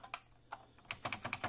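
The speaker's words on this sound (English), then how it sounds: "I really enjoy using these mechanical keyboards" Typing on a Unicomp Ultra Classic buckling spring mechanical keyboard: sharp, loud clacking keystrokes in an uneven burst, close up and alone.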